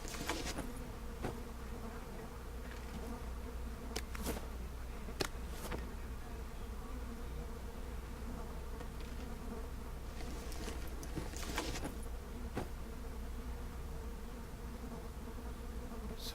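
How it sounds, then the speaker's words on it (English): Flies buzz in We Happy Few, a continuous, fairly soft droning swarm that holds steady throughout, with scattered faint clicks and knocks. "Sound of buzzing flies is overwhelming."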